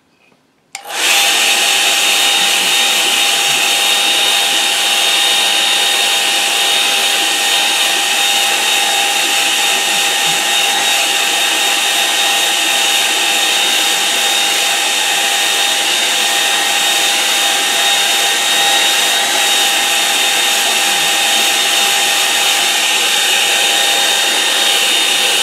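A hair dryer blows on a wet watercolour painting, switching on abruptly and then holding a loud, steady whirring roar close to the microphone for about twenty-five seconds, with no speech.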